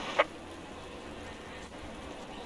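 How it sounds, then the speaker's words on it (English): Rain falls during a race, a steady, fairly faint hiss of rainfall that holds evenly throughout, with one brief sharp tick near the start. "now the rain just got worse"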